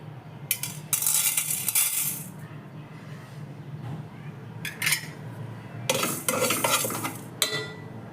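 Coriander and fenugreek seeds dry-roasting in a pan, stirred with a metal spoon that scrapes and clinks against the pan in short rattling bursts over a faint low background.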